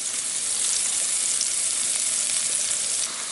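Mushrooms and carrots frying in a pan on the stove, a dense, even hiss of sizzling oil heard close and steady from start to finish with no talk.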